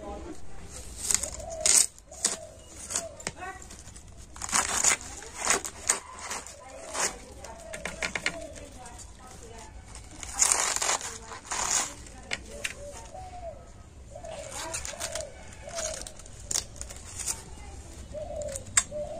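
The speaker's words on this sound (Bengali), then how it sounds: "তো প্রথমে আমি বাঁধাকপিটা কেটে নেব।" A knife cuts through a fresh cabbage in a home kitchen, with a series of crisp crunching slices and taps on a board, irregular and close, while birds coo faintly in the background.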